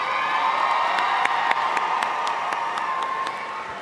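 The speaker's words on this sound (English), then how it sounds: "Would you all please join me in giving the class of 2022 a big round of applause?" Applause and cheering for the class of 2022 at a Buchtel CLC graduation ceremony: a steady wash of clapping and crowd noise with occasional sharp claps and whoops, moderately distant in a large hall.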